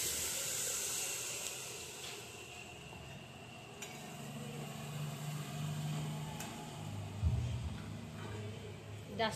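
Water poured into hot oily masala for Khandeshi patodyachi bhaji sets off a steady, close sizzling hiss that churns on for several seconds with small bubbling flare-ups.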